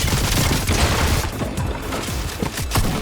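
A sniper rifle fires in a video game: dense, booming gunfire crackles close and loud in a continuous burst of sharp reports over a noisy battle background.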